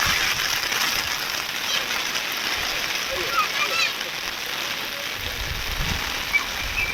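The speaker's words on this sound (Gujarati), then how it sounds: "સવારના 2 વાગ્યાથી સરસ પુષ્કળ વરસાદ પડી રહ્યો છે ભાઈઓ." Heavy rain pours steadily at a village pond, a dense even hiss of drops on water and ground close by, with faint voices in the background.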